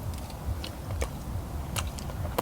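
Someone chews hamburg steak noisily with an open mouth, giving soft wet smacking and biting clicks in an irregular rhythm at close range over a low background rumble.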